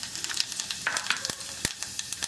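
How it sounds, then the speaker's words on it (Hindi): Cumin seeds crackling in hot mustard oil, a steady close sizzle broken by sharp popping crackles scattered through the whole stretch, with no talk over it. "जीरा बढ़िया क्रैकल हो रहा है"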